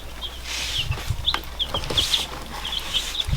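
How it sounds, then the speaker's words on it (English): Newly hatched baby chicks on a farm give a steady run of short, high cheeps with small pauses between them. A low hum runs underneath, and there is no talk. "Look at all the chickie babies that have been keeping us busy this week."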